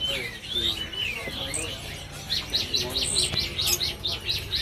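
Several caged songbirds, including magpie-robins, chirp and trill nearby in quick repeated bursts, growing busier toward the end, over a low background murmur.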